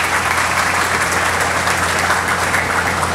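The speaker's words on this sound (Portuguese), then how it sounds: "eu peço uma salva de palmas para as gestoras que tiveram essa ideia" Loud, close applause from an audience at a literary honors ceremony, many hands clapping in a dense, steady roar that stays at full strength for the whole three seconds.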